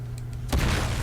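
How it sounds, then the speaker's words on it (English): In Uncharted 4 multiplayer, a car explodes with one sudden booming blast over a low steady hum of game sound, leaving a dense rumbling tail. "Oh, that car exploded."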